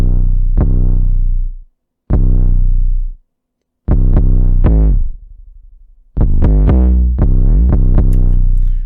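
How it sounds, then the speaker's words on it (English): A hip-hop beat built on short, punchy, bouncy 808 bass notes plays loud, with hits in chopped bursts separated by brief gaps of silence, and sharp percussive transients riding over the booming low end. "you're going to want a short, punchy 808."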